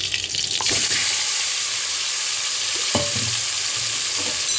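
A loud, continuous sizzle of raw hilsa fish frying in hot oil with green chillies, with a couple of brief stirring scrapes partway through.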